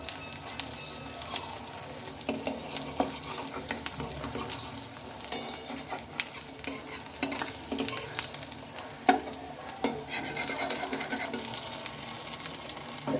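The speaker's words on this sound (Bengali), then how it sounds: "খুব সহজে বড়াগুলো ভাজা হয়ে যাবে" Lentil fritters (boras) sizzle steadily in a pan at close range, a continuous crackling hiss broken by occasional scraping and light clinks of a utensil, with no voices.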